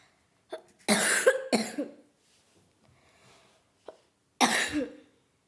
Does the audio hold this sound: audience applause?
no